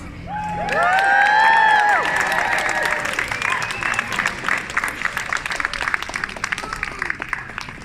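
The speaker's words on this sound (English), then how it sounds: "please give a huge cheer for our midwives" Street crowd at a York march for midwives cheers and whoops loudly, then keeps up brisk clapping, shouts and high voices rising over the applause before it settles into scattered, steady hand claps.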